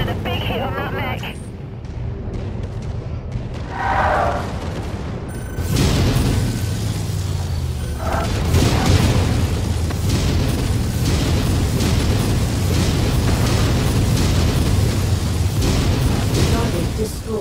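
Heavy explosions striking and wrecking a mech in MechWarrior 5: Mercenaries, deep booming blasts followed by a long rumbling roar of destruction, loud and sustained.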